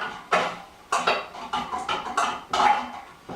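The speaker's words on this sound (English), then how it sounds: "finish melting this chocolate" A utensil scrapes and clinks inside a pot of melting chocolate for red velvet batter, about half a dozen close, bright strokes in an uneven rhythm, with no talking.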